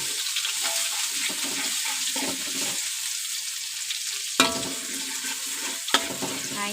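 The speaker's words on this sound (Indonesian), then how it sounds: "Pertama kita tumis dulu bawang putih yang satu tadi." Garlic sautéing in a pan for potato and beef perkedel, a steady close sizzle with the scrape and clink of a stirring utensil, and two sharper knocks against the pan near the end.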